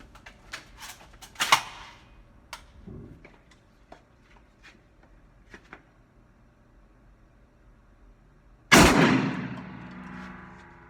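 A single loud shotgun blast fired at a target with a Browning Invector DS modified choke, sharp and close with a long decaying tail, preceded by quiet handling clicks and thumps.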